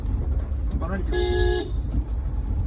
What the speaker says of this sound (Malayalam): ഓണടി കേട്ടു ആരോ വന്നുണ്ട്